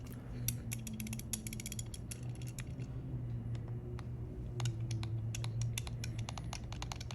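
Super Nintendo controller buttons fitted in a brass shell click repeatedly in quick irregular bursts, close and crisp over a steady low hum.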